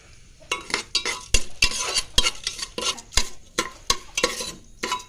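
A spoon stirs sugar and nuts in a pan while the sugar melts. Quick, rhythmic metal scrapes and knocks repeat about twice a second close up, over a light sizzle.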